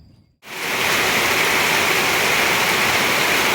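Heavy rain pours onto rice paddy fields during rice planting, a loud, steady, close hiss that starts abruptly and holds without a break.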